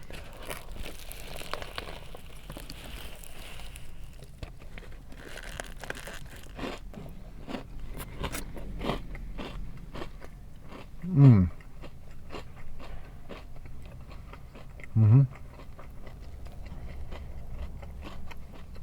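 A buffalo chicken wrap is bitten and chewed in a quiet room, giving two clear crunchy bites near the middle and end, with soft crinkling and faint mouth sounds between them.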